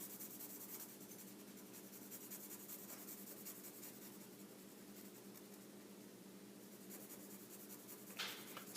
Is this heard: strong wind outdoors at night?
no